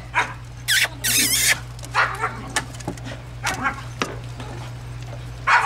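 Five-week-old English yellow Labrador puppies whimper and yip in short high bursts, close by, with a few soft voices in the background.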